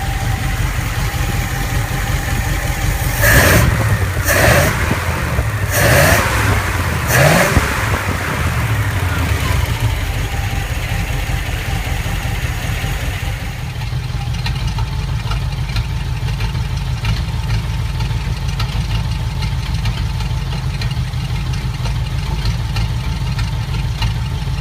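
A Ford flathead V8 running steadily, close and loud, with a burst of several sharp revs early on before settling into a continuous rough idle for the remainder.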